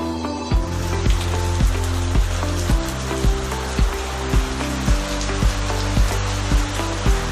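Steady rain falling on a summer afternoon, heard from under a shelter, a dense continuous patter with regular heavier drips or knocks at roughly half-second intervals.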